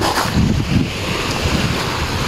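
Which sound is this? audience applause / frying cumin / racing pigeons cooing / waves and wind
waves and wind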